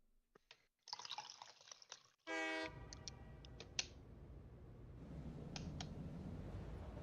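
A train in the video game Satisfactory sounds a short, loud horn blast amid faint clicks and drips, then settles into a steady low rumble of rolling movement.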